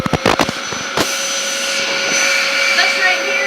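A Dyson DC07 vacuum cleaner runs with a steady whine and tonal hum on a new carpet, following a few sharp knocks and clicks at the start.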